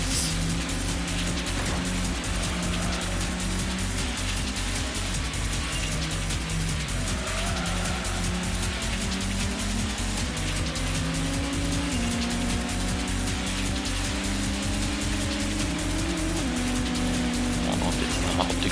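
A race car in the Gran Turismo driving game, its engine droning loudly and steadily with rising and falling pitch as it brakes, shifts and slides through corners, tire noise beneath, no talk.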